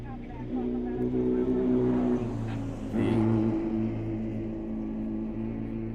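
Off-road race vehicle number 1176 in a SNORE event roars steadily at a distance, then its engine note drops and picks back up as it shifts into third gear, a continuous droning tone throughout.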